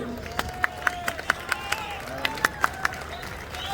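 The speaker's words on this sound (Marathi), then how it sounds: "सांगलीकर तुमच्या टाळ्या अतिशय कमी आहेत" Sparse, scattered applause from the audience at a Sangli bodybuilding contest, with a dozen or so distinct claps ringing out in a large hall while a voice speaks over a PA.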